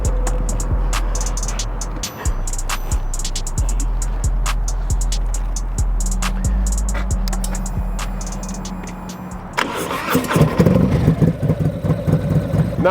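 Harley-Davidson motorcycle with an upgraded exhaust, air cleaner and Redshift 472 cam, idling with a loud, even loping pulse, then revving harder near the end.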